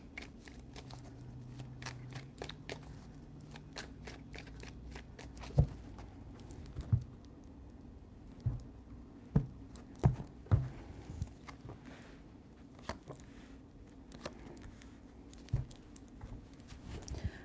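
Tarot cards being shuffled by hand, a soft papery riffle and patter that runs on with a few sharper slaps and taps scattered through it, fairly close and quiet, with no talking.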